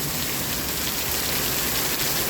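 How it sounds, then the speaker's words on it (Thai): Steady heavy rain falls without letup, a dense close hiss of drops pattering on surfaces, with no voices. "ฝนตกเนี่ย"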